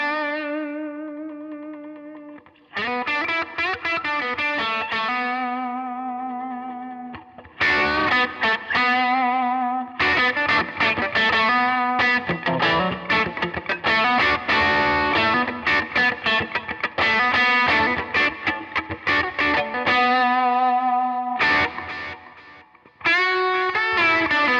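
A heavily distorted electric guitar, a relic-style Telecaster through a distortion pedal, plays sustained chords and riffs, loud and close, with brief pauses between phrases and no voices.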